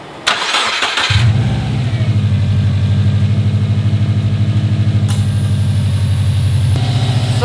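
A Subaru engine, just fitted with an IAG V3 air-oil separator, cranks briefly, catches, and settles into a loud, close, steady idle with a rhythmic low pulse.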